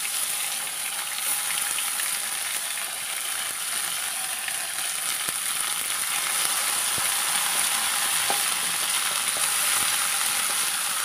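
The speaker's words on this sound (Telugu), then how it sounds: "కొంచెం ఇలా వేగనిద్దాం" Ridge gourd chutney frying in a pan, a steady bright sizzle that hisses continuously at close range, with occasional faint stirring clicks and no voices.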